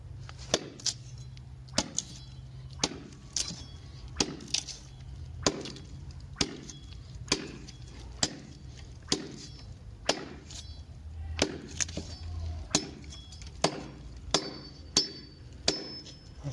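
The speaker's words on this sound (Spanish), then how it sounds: "Hay que cortar este para los elotes." Steady chopping of corn cobs (elotes), regular sharp blade strikes about once per second for the whole stretch over a low steady hum, close and without talk.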